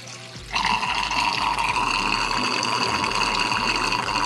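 A water pump's Venturi aerator, cap just removed, bursts into a loud continuous rushing hiss of air and water after a brief quieter flow, steady to the end.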